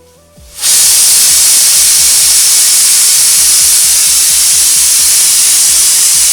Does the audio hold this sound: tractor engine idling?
no